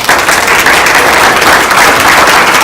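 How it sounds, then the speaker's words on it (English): A seated audience at an aspiring entrepreneurs workshop breaks into steady, dense applause that fills the room, many hands clapping together at full volume for the whole stretch with no voices over it. "Let's start this thing off with a round of applause for Brian Church."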